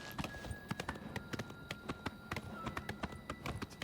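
Horse hooves clip-clop in Elder Scrolls IV: Oblivion Remastered, a quick, uneven run of sharp hoofbeats that sounds fairly close and clear against a quiet game backdrop.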